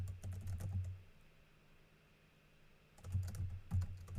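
Someone types on a computer keyboard in quick, close bursts of key clicks, with a pause in the middle. There is no talking over it.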